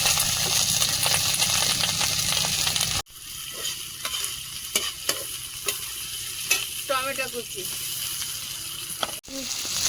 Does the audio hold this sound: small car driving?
no